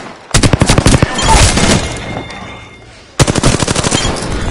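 Automatic gunfire in the battle royale game Apex Legends: rapid close bursts of shots, a pause during reloading, then another sustained burst.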